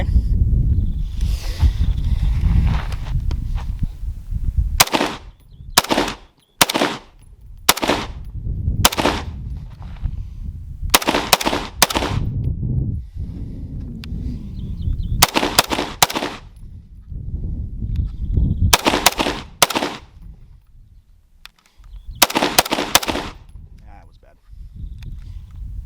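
A Desert Tech MDRX rifle with a muzzle brake firing outdoors at a silhouette target, sharp loud cracks singly and in quick pairs and triples spread through the stretch, with people talking between the shots.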